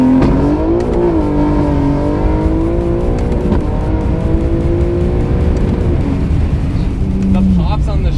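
A BMW G80 M3 accelerating hard under full throttle, its rising engine note climbing steadily through the gears, with sharp anti-lag pops and crackles on each shift, loud and close throughout.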